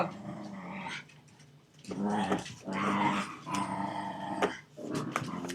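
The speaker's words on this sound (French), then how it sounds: "Et les toutous." Dogs growl and snarl in bursts close by, with low rumbling and a few sharp yaps between brief pauses.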